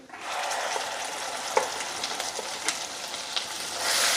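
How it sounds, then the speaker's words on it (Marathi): Ground masala paste for Marathi katachi amti sautés in hot oil, giving a steady, fairly loud sizzle with occasional light clinks of a stirring spoon against the pan. "वाटण छान तेल सुटेपर्यंत आपल्याला परतून घ्यायचे"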